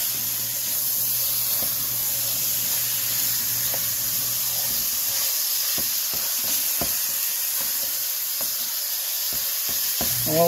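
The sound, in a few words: beef and sausage searing in a pan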